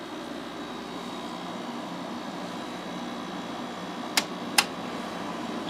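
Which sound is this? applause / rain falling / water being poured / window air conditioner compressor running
window air conditioner compressor running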